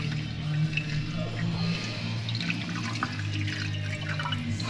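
Water trickles and drips inside a flood-damaged Jaguar XK V8 car, a faint, uneven splashing and dribbling over a low background hum, close by and without speech.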